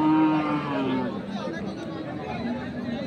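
Cattle bellow at a busy livestock market in Dinajpur: one clear, fairly close moo opens the moment, then fades into the steady chatter and babble of a crowd of buyers and sellers.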